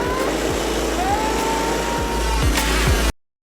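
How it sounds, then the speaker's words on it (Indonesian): Go-kart engines during a kart race, a buzzing motor whine with rising pitch and several quick passing swooshes, fairly loud and continuous before cutting off abruptly. "ternyata gak gampang main go-kart ya"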